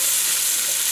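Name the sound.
stirring potato pasta with onion browning in a pan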